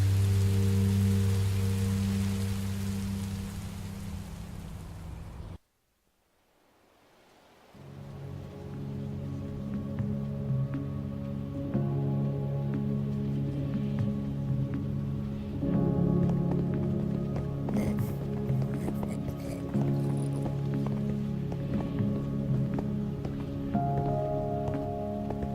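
Steady rain in the video game Minecraft, a constant hissing downpour with game music and tones layered over it, broken by a brief near-silent gap before the rain resumes and continues loud and even.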